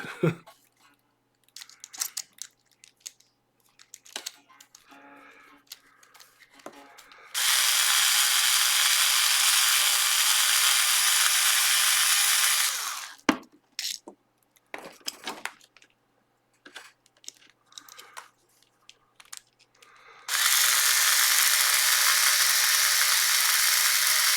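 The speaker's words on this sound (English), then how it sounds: "That's why I'm using an electric screwdriver." Electric screwdriver driving screws out of a guitar body during a pickup swap, two sustained loud whirring bursts of several seconds each, separated by quieter handling clicks and rustles.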